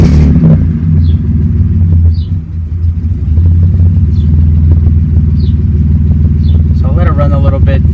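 A Maserati Biturbo engine starts and runs with a steady, heavy low rumble that carries on without a break, with a few faint higher clicks and noises over it.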